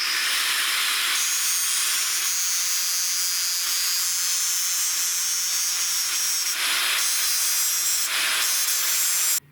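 Steady high-pitched grinding and rubbing as a metal key is carved down to size for a Tiger Shark boat, continuous for the whole stretch with brief lulls, no talk over it.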